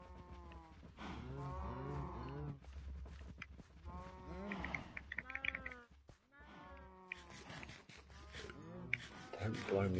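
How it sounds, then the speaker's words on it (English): Minecraft cows mooing in a game world: several drawn-out, tonal moos, one after another, with brief gaps between calls and a low hum beneath them. "Hello cows."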